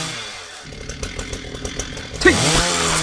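A chainsaw in the zombie game Into the Dead 2 revs up with a rough, rattling motor, loud and close, rising into a sustained high whine that runs to the end.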